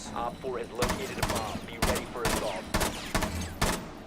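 Rapid bursts of gunfire from Rainbow Six Siege, sharp repeated shots in several clusters over steady game background noise, loud and close.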